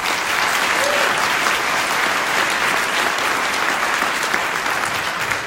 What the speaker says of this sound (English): I'd like to give them another round of applause